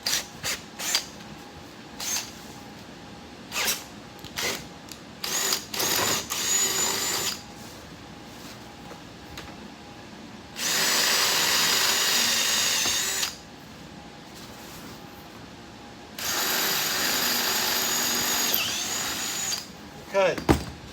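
Power drill with a 3/8-inch bit boring holes through a sail panel on a NASCAR Craftsman Truck, several sustained whining bursts of a couple of seconds each between quieter pauses, with talking in the gaps.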